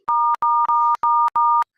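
A telephone rings with five short, evenly spaced electronic tone bursts in quick succession, loud and clear with no voices over it.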